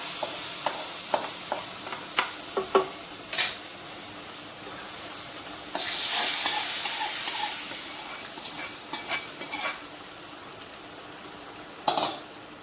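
Beef curry being stirred in a pan, with scraping and the clink of a spoon against metal in irregular strokes, a low sizzle underneath, and a louder burst of bubbling partway through.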